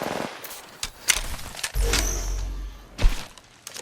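Gunfire in Apex Legends: a few sharp, close shots and short bursts crack out, separated by brief gaps and a whooshing rumble.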